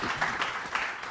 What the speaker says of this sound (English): Round of applause for Charlotte Ashby.